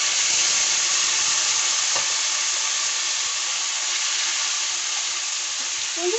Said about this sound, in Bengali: ফোড়ন দিয়ে দিচ্ছি 5 ফোড়ন, তারপর দিয়ে দিচ্ছি ডাল, আলু,